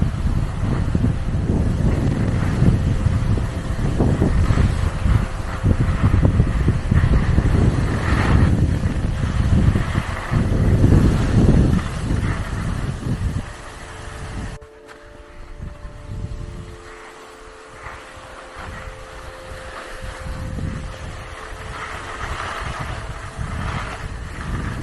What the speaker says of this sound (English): Still very windy at times up the top